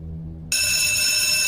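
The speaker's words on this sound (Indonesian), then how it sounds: "ia kembali mendengar bel kantor berdering" A bell rings in an office, setting off suddenly after a quiet moment and then sustaining a loud, continuous high-pitched ring with no voices.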